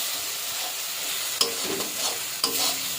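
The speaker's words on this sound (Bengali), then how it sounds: "এবার এই মশলাটা দিয়ে খুব ভালো করে কষাতে হবে।" A ground paste of cashew, raisin, shrimp, ginger and onion is stir-fried in a pan, giving a soft steady sizzle broken by two sharp scraping stirs of the spoon; no talking.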